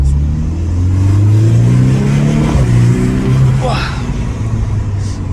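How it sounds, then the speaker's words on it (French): A Volkswagen Golf 6R pulls hard in second gear, its engine note climbing steadily in pitch and loud from inside the cabin, with voices talking over it. "Alors on va pouvoir tester une petite accélération."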